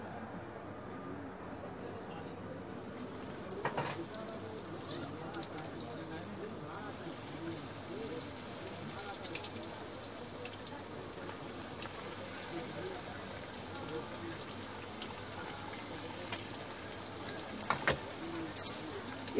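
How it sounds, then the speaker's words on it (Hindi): Chicken pieces, soaked in bread, fry in hot oil with a steady soft crackling sizzle and occasional louder pops, fairly faint and continuous throughout. "अब तेल हमारा गर्म हो चुका है, हम इसमें चिकन हमारा डालेंगे फ्राई करने के लिए।"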